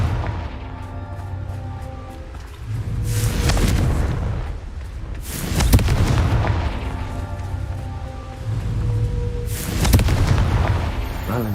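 Confringo spell explosions in Hogwarts Legacy, heavy booming blasts repeating about every few seconds over a continuous rumbling game soundscape, loud and close.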